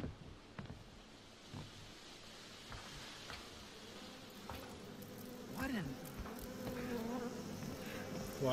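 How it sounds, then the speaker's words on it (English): Mosquitoes buzzing in the game Outlast 2 as a faint, persistent insect whine with swelling passes near and away. Quiet ticks and rustles sit underneath, and a voice talks faintly. "Why the fuck are there mosquitoes?"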